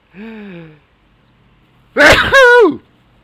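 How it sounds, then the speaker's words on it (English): A single loud sneeze preceded by a brief high-pitched voiced lead-in, then a sharp burst with a trailing wheezy tail, close to the mic. "Oh, it's time to sneeze."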